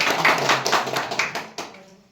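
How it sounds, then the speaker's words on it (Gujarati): A short burst of clapping from a small group, loud at first and quickly thinning out to a few scattered claps. "અમે તાળીઓના ગડગડાટથી વધાવીએ છીએ"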